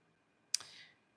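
A knife slices once through a cucumber for a Mediterranean salad, giving a single crisp, close cut with a short fading rasp, alone in a quiet kitchen.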